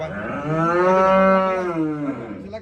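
A single long, loud cow moo close by, rising and then falling away over about two seconds.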